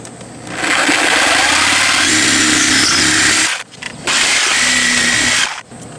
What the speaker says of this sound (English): So we're going to take sawzall,